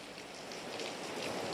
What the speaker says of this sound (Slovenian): da na Primorskem zopet zelo močno dežuje